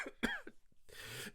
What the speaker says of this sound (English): You might hear me coughing and spluttering during this episode.